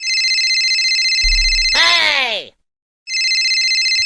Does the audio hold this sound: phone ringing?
yes